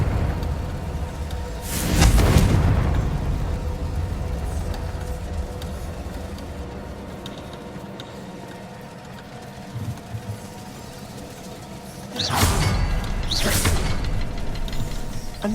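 Fiery Confringo spell blasts in the Hogwarts Legacy video game, a loud booming burst near 2 seconds and a double explosion around 12 to 14 seconds, with a low rumbling ambience in between.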